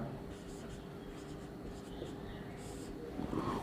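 Chalk or marker scratches across a board as a chemistry answer is written out in a classroom lesson, a continuous scraping texture with short strokes, close and under a steady room hum.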